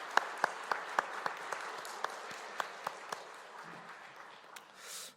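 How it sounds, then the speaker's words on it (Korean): Church congregation clapping to welcome families during a worship service, a distant diffuse wash of applause with a few sharp nearer claps standing out, fading near the end. "박수로 환영하겠습니다."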